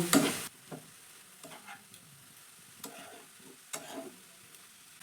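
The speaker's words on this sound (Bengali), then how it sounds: "বাঁধাকপিটাকে আমি একটু আবারও নাড়াচাড়া করে নেব" Shredded cabbage being stirred in a covered pan on a gas stove, beginning with a loud clatter, then soft intermittent scraping and sizzle bursts, close and fairly quiet, with no speech.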